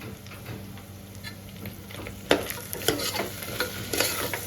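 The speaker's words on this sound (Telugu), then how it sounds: "కొంచెం అల్లం వెల్లుల్లిపాయ పేస్ట్ బాగా వేయించుకోవాలి" Ginger garlic paste frying in a pan for mutton legs pulusu, a quiet sizzle over a low hum that turns into brisk stirring and scraping in the second half, with no talking.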